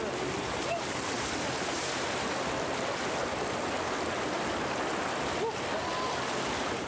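A lahar flood from Mount Semeru rushes down the Regoyo river channel in Lumajang, a steady, dense roar of churning water heard from some distance, with no breaks over several seconds.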